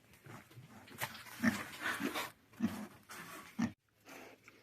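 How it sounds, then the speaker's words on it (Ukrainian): A dog barks in a few sharp, fairly close bursts on a farm where a pig is nearby, with someone talking between the barks. "Марс, не гавкай. Це свиня."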